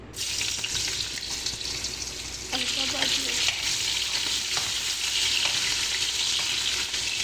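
Potatoes fry in oil in a home kitchen pan, giving a loud, continuous close-up sizzle with stirring and scraping sounds running through it.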